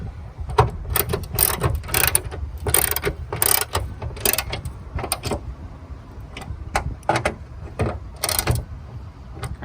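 Ratchet clicking in repeated quick bursts while carbon fiber hood strut fittings are tightened on a Subaru WRX STI, close and fairly loud, with short pauses between strokes and no talk.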